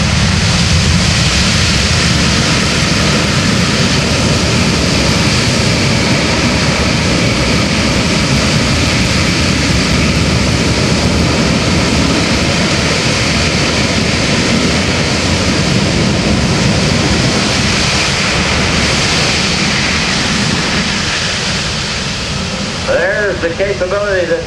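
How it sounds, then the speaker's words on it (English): C-17 Globemaster III at an air force base airshow, its jet engines roaring loudly and continuously as power is added to the thrust reversers after landing, a broad sustained rush heard from a distance. "Now they add power to the thrust reversers."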